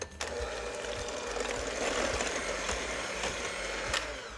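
An electric mixer beating eggs into apple cupcake batter, a steady mechanical whirring and rattling that runs continuously at moderate volume with small clicks throughout.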